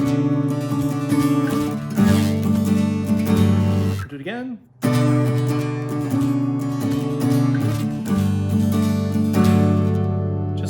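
Guitar picks out a repeating intro riff, ringing chords played close and clear, broken briefly midway by a short spoken phrase before the pattern resumes.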